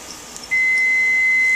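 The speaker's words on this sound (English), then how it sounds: "my microwave just beeped" A microwave oven gives a single sustained electronic beep, a clear steady tone that starts abruptly and holds to the end, with no talking.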